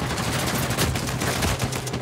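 Rapid gunfire from Uncharted 4 multiplayer Team Deathmatch in a village map, loud, close bursts of overlapping shots and automatic fire crackling continuously without a break.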